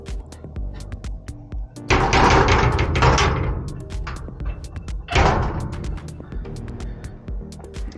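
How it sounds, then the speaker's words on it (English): Main entrance door of a glamping bubble in Big Bend National Park, Texas, opening with a loud rushing whoosh of air and closing again with a second burst, amid quiet background clicks. "which we are getting in now after opening this main entrance door."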